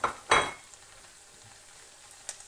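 Chopped onion hits a hot frying pan for spaghetti with vegetables: two quick bursts of loud sizzling and stirring, then a soft, steady fry with a light clink of a utensil.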